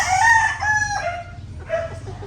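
Gamecock roosters at a game farm in Boso Boso, Rizal crow in overlapping calls, one loud and near, others answering, with a low background rumble throughout.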